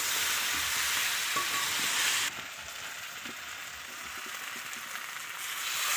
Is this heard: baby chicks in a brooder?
no